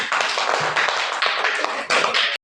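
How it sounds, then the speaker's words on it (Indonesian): Students in a classroom clap for a group, a short burst of close, sharp hand claps that swells and dips in a few uneven waves before stopping abruptly. "Tepuk tangan untuk kelompok ini."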